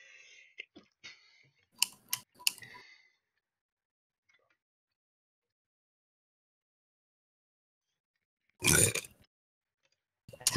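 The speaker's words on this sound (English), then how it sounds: "That was like the nastiest burp I've ever heard." A single loud, rough burp erupts near the end after a long silence, preceded by a few short clicking and grunting noises.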